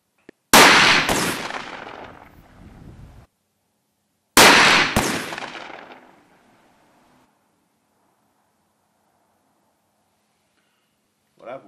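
Two loud, close shots from an ELOS Traqueur 12-gauge 76 mm shotgun, several seconds apart, each a sharp blast with a long decaying echo, followed by quiet.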